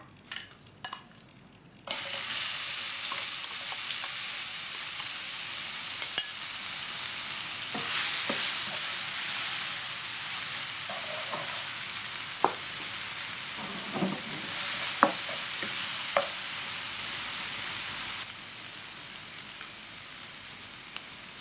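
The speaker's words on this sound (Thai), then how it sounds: "น้ำมันร้อนแล้วเราก็ใส่กระเทียมกับพริกที่เราตำมาไว้ค่ะ" Crushed garlic and chilies hit hot oil and sizzle loudly and steadily, with scattered sharp spatters and the scrape of a spatula stirring, no talking; Thai stir-fried beef with basil in progress.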